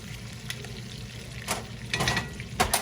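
Butter sizzles in a frying pan before steak goes in, a close, soft hiss broken by a few brief louder bursts of crackle and scraping.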